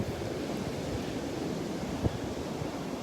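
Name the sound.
wind off the Gulf of Mexico on a beach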